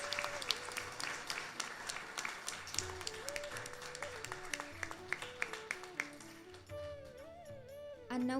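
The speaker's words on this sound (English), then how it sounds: "Now can we get a final round of applause for all of our participants?" A final round of applause for participants at a Krishna temple Sunday service, sustained crowd clapping with sharp individual claps standing out, fading near the end as a voice and tone enter.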